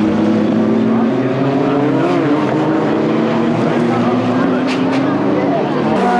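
A Lola T492 race car in a 1998 Sports 2000 race roars past with a loud, sustained engine note whose pitch shifts as it goes by, with a commentator talking over it.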